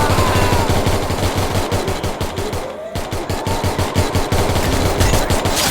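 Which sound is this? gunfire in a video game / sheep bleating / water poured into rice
gunfire in a video game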